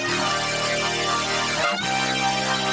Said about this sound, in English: So if we just play the chorus effect, it's going to sound like this.